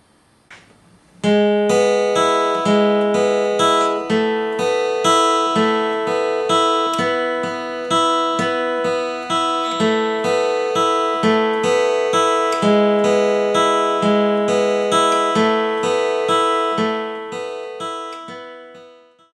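A clean guitar plays a steady run of plucked notes for several bars, repeating a simple pattern at an even tempo, close and clear with no talking.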